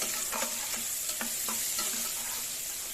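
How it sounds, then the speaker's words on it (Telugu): Onions fry with turmeric in oil in a pressure cooker for mutton biryani, a soft steady sizzle punctuated by several light stirring taps; no talking. "ఇది ఇట్లా ఫ్రై అవుతూ ఉన్నప్పుడే"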